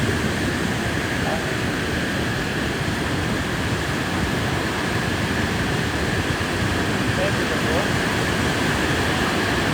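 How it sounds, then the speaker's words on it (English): Steady ocean surf washes continuously onto a beach in the Seychelles, a broad, even rush of breaking waves that holds at a constant level from start to finish, with no talking. "I'll just let the sound of the ocean go for a while."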